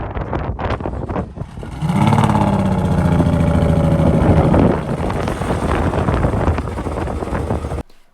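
A Jaguar F-Type V6 P380 with a faulty exhaust starts up, catching with a loud, rough, blatty roar that settles into a harsh, raspy idle, close and unmuffled.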